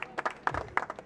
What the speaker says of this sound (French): On va pouvoir applaudir le propriétaire de l'Alpine, vous pouvez l'applaudir